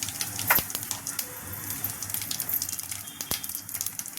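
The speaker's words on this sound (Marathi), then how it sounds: "जिरे चांगले तडतडले" Cumin seeds splutter in hot oil alongside mustard seeds and curry leaves for a mung dal amti, a steady soft crackle and sizzle with a few sharper pops.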